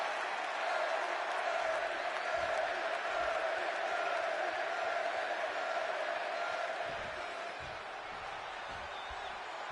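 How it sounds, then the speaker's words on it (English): Dense arena crowd roaring and cheering at a Chicago wrestling event in the WWE 2K26 video game, a steady wall of crowd noise that eases slightly near the end. "And just listen to this crowd here in Chicago."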